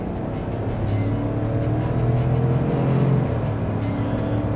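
A 2024 Chevrolet Tahoe RST with the 5.3L V8 and AWD accelerates on a test drive, a steady in-cabin engine drone that rises gently in pitch and loudness, with road noise and no talking.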